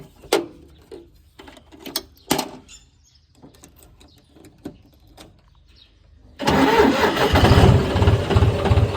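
A John Deere tractor's engine catches after some scattered clicks and knocks, then settles into a loud, steady, close diesel rumble for the last few seconds.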